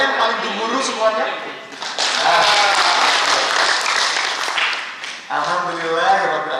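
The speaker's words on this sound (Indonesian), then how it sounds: "Kalau sehat boleh tepuk tangannya yang paling gemuruh semuanya." An audience at a government training session in Indonesia breaks into loud, full applause, with a speaker's voice heard before and after the clapping.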